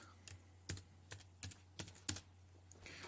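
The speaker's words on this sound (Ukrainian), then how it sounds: "пишемо тепер вручну Select" Keystrokes on a computer keyboard as an SQL SELECT query is typed by hand: about eight separate clicks at an irregular pace, close and clear over a quiet steady hum, with no speech.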